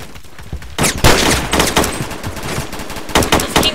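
Rapid automatic gunfire from the Roblox game Phantom Forces, with loud, sharp bursts of shots crackling in quick succession after a brief quieter lead-in, close and dominant.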